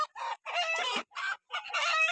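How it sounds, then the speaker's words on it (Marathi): Hens clucking and squawking in loud, close bursts of agitated calls with short pauses between, no people talking. "ते उठल्यामुळं कोंबड्या पळायल्या, वरडालेल्या."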